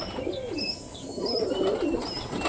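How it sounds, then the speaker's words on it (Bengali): A pet bird gives soft, rolling coos with a few higher chirps mixed in, fairly quiet and close, repeating over a couple of seconds in a calm indoor setting. "আমাদের সবুজটা কিন্তু খুব সুন্দর ডাকাডাকি করছে"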